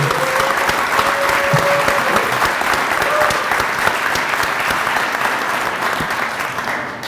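An audience at a community drug-awareness program applauds a judge, loud sustained clapping from many hands with a few faint voices mixed in, fading slightly toward the close.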